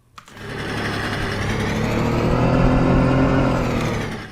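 A small, buzzy Simson S51 moped engine in Farming Simulator 19 revs up and holds a high, whining drone for several seconds before cutting off, loud and close.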